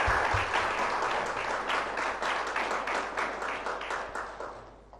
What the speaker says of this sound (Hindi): बहुत बहुत तालियों के साथ हम अपना प्यार उन तक पहुँचाएं